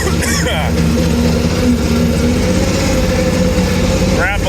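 The diesel engine of an AGT Industrial KRW23 end loader lugs under load while pushing near a brush pile, giving a loud, steady, rumbling drone that holds throughout with little change in pitch.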